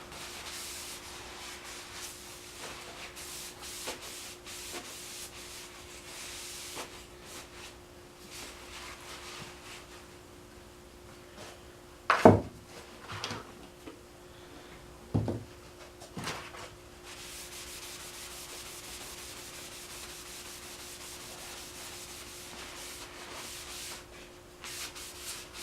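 Oil is rubbed into a restored axe by hand, a faint soft scuffing broken by a few brief, louder knocks and rubs midway, with no talking.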